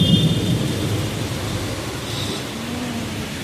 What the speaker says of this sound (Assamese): বৰষুণ কমাই নাই পুৰা জোৰে মাৰি আছে